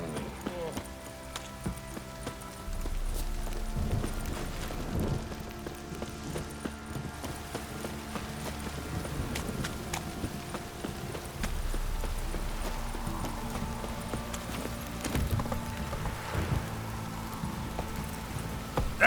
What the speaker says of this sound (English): Time to water the horses.